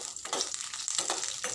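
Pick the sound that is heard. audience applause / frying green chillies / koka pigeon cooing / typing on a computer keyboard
frying green chillies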